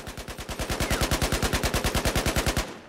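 Fully automatic SAR-21 rifle fire with a heavy barrel in Battlefield 4, a long unbroken burst of about thirty evenly spaced, sharp, loud shots at a fast, steady rhythm, with no voices.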